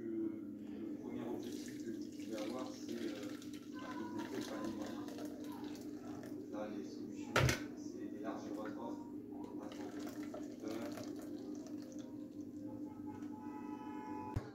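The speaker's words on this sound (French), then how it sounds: "on verse pour filtrer" Tunisian lemonade is poured through a fine strainer, a steady liquid trickle running throughout with a brief louder clink partway, faint and close.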